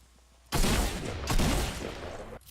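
Shotgun fire in the video game Fortnite: a sudden loud blast followed by a second burst, the booming reports overlapping into a dense roar that trails off, with quiet game ambience before and after.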